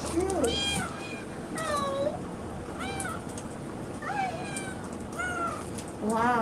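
Several kittens at a Chicago shelter meow repeatedly in high, thin cries, one after another over about six seconds against a steady background hum, with a voice faintly audible.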